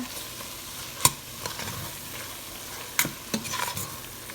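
Chili powder is stirred into a Sri Lankan prawn curry as a few spoon scrapes and knocks on the pot cut through a low, close sizzle.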